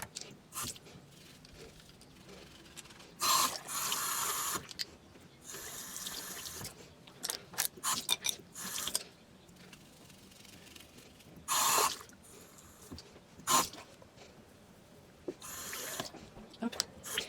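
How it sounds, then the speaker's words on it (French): Running tap water splashing over makeup brushes being rinsed of foam in a sink, coming in repeated bursts of spray with quieter gaps and small handling sounds between. "Je rince bien jusqu'à ce qu'il n'y ait plus de mousse"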